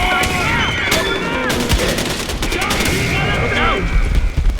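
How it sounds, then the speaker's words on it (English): Dense gunfire from the video game Far Cry 4 rattles in continuous bursts throughout, with sharp shots and booms layered under shouted speech. "Who is shooting?"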